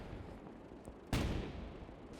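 Sudden loud burst of gunfire or a heavy gun blast erupts midway through a Gates of Hell battle against Soviet tanks, with a rumbling roar lingering after the hit over a low battlefield background.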